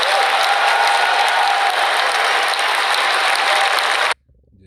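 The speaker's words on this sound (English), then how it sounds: "Edomites clapping for their ruler Nero." Dense, loud crowd applause for a ruler, a sustained wash of many hands clapping that cuts off abruptly near the end.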